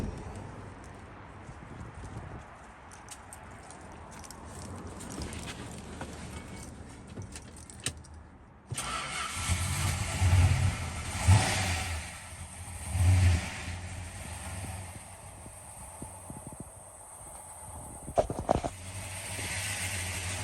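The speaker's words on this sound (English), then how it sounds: "Let's go ahead and fire this car up." A 1963 Plymouth Fury with a 426 Max Wedge V8 follows a stretch of keys jangling and rattling: the engine fires abruptly halfway through and runs loud and rough with a few sharp revs.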